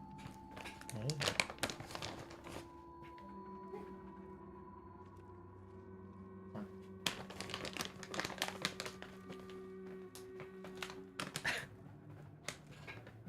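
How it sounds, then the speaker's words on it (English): A new plastic bag crinkles in quiet bursts, once near the start and again in a longer rustling stretch later, with a low steady hum and a person talking in the background. "This is a new plastic bag sound to him."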